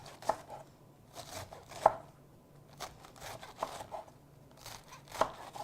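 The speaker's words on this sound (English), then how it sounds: "put it straight down the cutting board, and just start slicing from the end" A knife slicing produce on a cutting board, with a series of irregular, fairly close chopping taps and soft cuts, quiet in between and with no voices.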